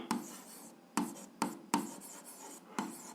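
Pen strokes on paper while writing out an algebra solution, a handful of short scratchy bursts separated by brief pauses, close and quiet with no talk.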